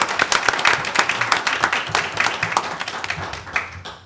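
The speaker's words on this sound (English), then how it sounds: "Let's give them a round of applause and thank them for their service." A round of applause in a board of education meeting room, a modest group clapping with distinct individual claps, steady for several seconds before thinning out at the end, no speech over it.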